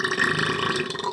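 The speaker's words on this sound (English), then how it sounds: "That was a ton of burp." A long, loud burp after eating panzerotti, one sustained guttural belch rumbling steadily for over a second with no talk over it.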